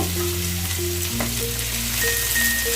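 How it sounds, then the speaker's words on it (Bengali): Thinly sliced onions fry in oil until golden, a continuous dense sizzle up close with a few faint tonal hums underneath. "আগে ভালো করে বেরেস্তার মতন ভেজে নেব"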